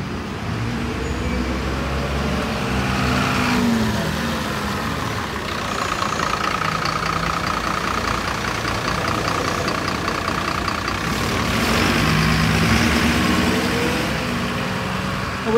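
A bus pulling into bay B5A at Lincoln Central Bus Station, its engine idling with a steady low rumble, close and continuous, amid general station traffic noise throughout.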